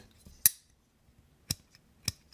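Three sharp metallic clicks of a small NCC Knives BBM folding pocketknife blade snapping open and shut, spaced apart with near silence between them, close and crisp.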